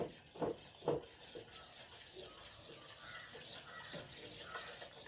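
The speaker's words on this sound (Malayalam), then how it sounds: "ഒന്ന് ഇളക്കി കൊടുക്കട്ടെ ഇത് നോക്ക് കുറുകി വരുന്നുണ്ട്" A spoon stirs a thickening coffee pudding mixture in a pot, with a couple of louder scraping knocks early on, then soft continuous swishing and faint clinks at a low level.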